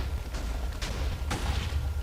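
A huge TNT explosion in Minecraft rumbles as a string of three muffled booms over a continuous roaring blast, loud and with no talking.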